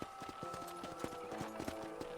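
Horse hooves clip-clopping in Red Dead Redemption, a quick irregular run of sharp hoof strikes over a low steady musical drone, fairly close and moderately loud.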